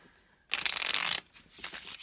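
A Curious Oracle tarot deck, an artist-proof printing on smooth cardstock, is riffle-shuffled up close: a crisp, dense burst of fluttering cards, a brief pause, then a second shorter riffle, with no talking.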